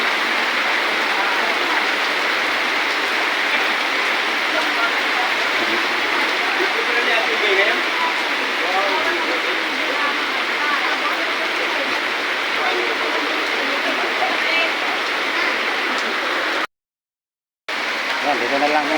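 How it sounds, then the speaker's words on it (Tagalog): Heavy rain pours down in a steady, loud, unbroken hiss that fills the whole scene, with only a brief dropout near the end. "Sobrang lakas ng ulan."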